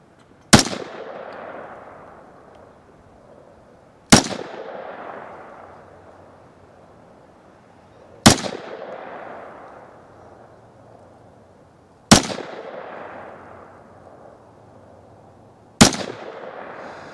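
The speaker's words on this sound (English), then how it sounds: "I'm gonna put a 5-round group on it down there." A KelTec CMR30 rifle fires five evenly spaced shots, each a sharp, loud crack about four seconds apart with a long echoing decay rolling off after it, outdoors with no talking.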